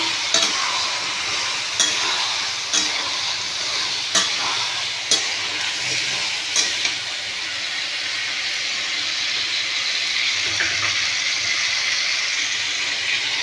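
Soaked chickpeas tumble into a hot pan of frying pumpkin curry base, giving a steady oily sizzle broken by several sharp scraping clicks of a spatula stirring at close range, with no talking.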